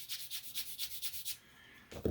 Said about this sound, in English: I'm going to sand at 45 degrees to that one.